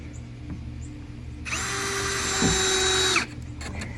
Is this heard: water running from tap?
no